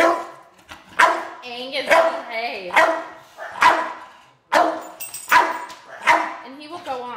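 A dog in a crate barks repeatedly in bursts, mixed with high whiny yips, close by, while a person speaks over it.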